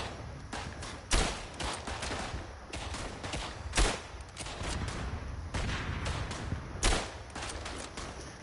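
Repeated rifle and machine-gun fire from a World War One battlefield shooter game, dense crackling volleys with several louder close shots standing out above continuous distant gunfire.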